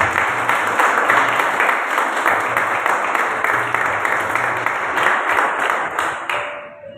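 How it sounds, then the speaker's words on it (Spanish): A church congregation breaks into loud, sustained applause, dense clapping held steady for several seconds before trailing off and fading near the end. "Démosle un fuerte aplauso al Señor."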